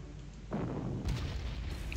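Artillery barrage in a WWII strategy wargame set around Lillehammer: a dense, rumbling burst of booming shell fire swells in after a quiet start and keeps up as a steady, loud roll with no voices.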